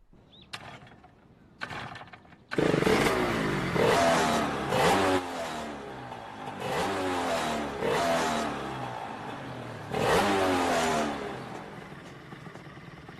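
A motorcycle with a sidecar revs its engine loudly after two brief clanks, the roar rising and falling in repeated surges of throttle, close and dominant with no voices.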